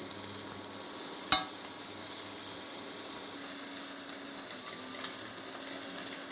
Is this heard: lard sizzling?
yes